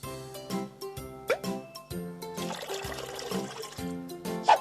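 Cartoon baby bath water and bubbles: a quick run of plopping, bubbling liquid sounds with splashy bursts, fairly soft and close, stuttering in short repeated pulses.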